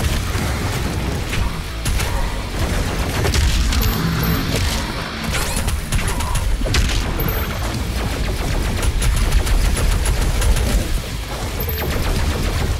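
DOOM Eternal combat with dense, continuous gunfire, bursts of loud impacts and crashing blasts that may include an exploding barrel, and mechanical clanks throughout.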